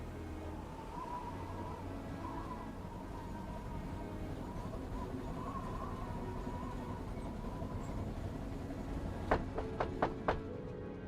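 A moving train in a Murder on the Orient Express video game, with a steady low rumble of rolling wheels running throughout, then a short run of sharp metallic clacks near the end.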